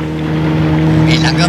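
A boat engine droning steadily with a strong low hum while the boat turns, a voice talking over it.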